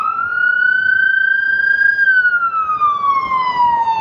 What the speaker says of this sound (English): Look, here comes the ambulance.